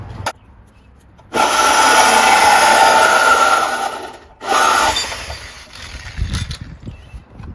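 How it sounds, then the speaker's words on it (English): A power tool cuts up the factory muffler on a 1987 Dodge Ram 50, giving a loud, steady grinding whine that runs for about three seconds, pauses briefly, then comes back for a shorter burst and winds down, followed by a few low clunks. "Next step is to hack up this perfectly good factory muffler."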